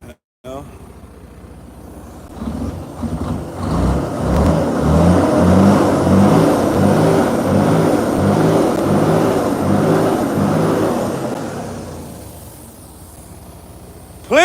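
A DD13 diesel truck engine with a bad DPF filter revving in neutral: a loud, rising rumble that holds a strong steady roar for several seconds before easing back down, heard close, with a voice at times.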